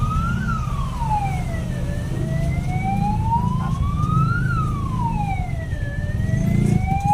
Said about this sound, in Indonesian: ini pas macet begini, terus di belakang ada ambulan